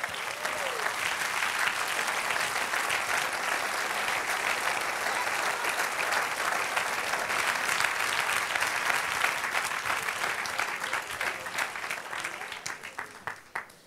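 A church congregation claps for a long, loud, dense stretch, with scattered voices mixed in, then the applause thins into a few separate claps and fades at the end.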